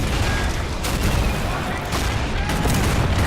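Continuous battle din from Men of War: Assault Squad 2, with artillery and small-arms fire blending into a loud, dense roar of overlapping blasts.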